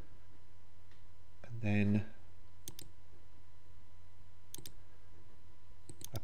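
Keyboard typing and mouse clicks while entering text in Canvas Workspace for a stitchable card front: sparse sharp clicks spread across several seconds, quiet and close, with a brief spoken phrase partway through.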